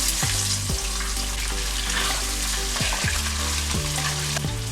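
Lamb for a stew sizzles and fries steadily in a hot pan, a loud continuous crackle broken by a few stirring scrapes, with no voices.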